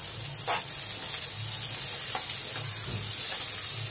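Onions with red and green chillies fry in a pan with a steady hiss, while a spoon stirs and scrapes in a few soft strokes, close and continuous.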